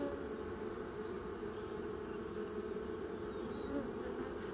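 Bees buzz steadily at a hive as queens are released, a dense, continuous drone that holds close and even throughout with no voices.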